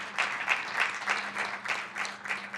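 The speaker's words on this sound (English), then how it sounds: "Another round of applause." An audience at a Gilbert town council meeting gives a round of applause for water professionals, a steady patter of many hands clapping at moderate distance in a large room.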